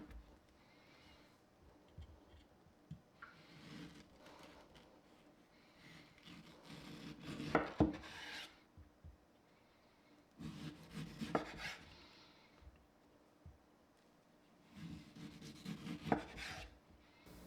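A knife slices mango flesh away from the seed in a few quiet bursts of soft, wet cutting and scraping against a board, separated by near-silent pauses.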